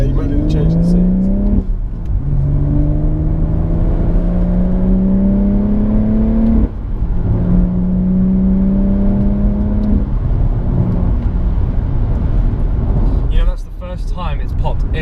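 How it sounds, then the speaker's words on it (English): BMW M140i or M240i fitted with a BCS Powervalve exhaust, engine rising through the revs in repeated pulls with gear changes between them, heard from inside the car under steady talk. "it's popped every gear change."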